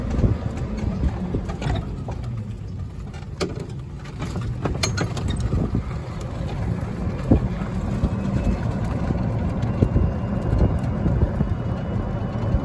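Ez-Go TXT four-passenger golf cart with a 36-volt electric system driving along, a steady low hum and rumble with wind buffeting the microphone throughout, no talking.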